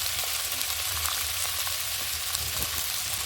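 Beans, potato, radish and eggplant hit hot oil in a frying pan and sizzle loudly and steadily. A faint stirring scrape sounds underneath, with no talking.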